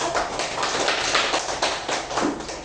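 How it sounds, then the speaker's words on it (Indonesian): A classroom of students claps for a classmate, a close, brisk patter of many hands in uneven bursts lasting a few seconds. "Tepuk tangan untuk Inya dan"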